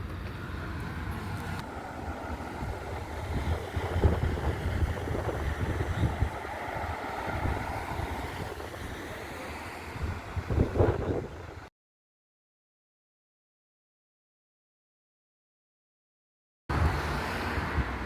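Wind blowing outdoors near a medieval city gate in Lübeck, a steady broadband rush with low buffeting on the microphone, continuous for about eleven seconds, then a dropout of silence before the wind resumes.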